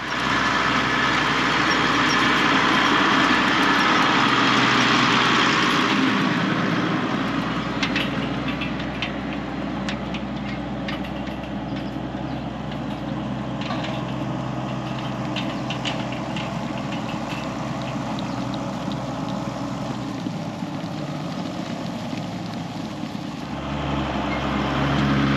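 Farm tractor engine running steadily on a sheep farm during lambing, a loud, continuous, low diesel drone with slight knocking that shifts in pitch partway through, with no talk over it.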